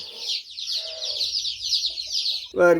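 Black chickens on a poultry farm clucking and chirping, a continuous chatter of birds close by, ending in a loud, sharp squawk.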